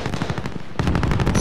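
Light machine guns firing in a zombie video game, rapid loud bursts of automatic gunfire with a brief lull before a heavier stretch of shots, close and dense.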